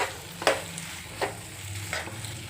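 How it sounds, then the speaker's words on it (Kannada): Salted spicy pasta is stirred in a pan, with three distinct scraping strokes at an unhurried rhythm over a faint background sizzle. "ಸೊ ಈಗ ಸಾಲ್ಟ್ ಹಾಕ್ಬಿಟ್ಟು ಈಗ ಫುಲ್ಲು ಮಿಕ್ಸ್ ಮಾಡ್ತಾಯಿದ್ದೀನಿ"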